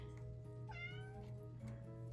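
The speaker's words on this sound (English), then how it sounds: "And that meowing is my little black kitty." A small black kitten meows a few times up close, short rising cries against a faint steady indoor hum.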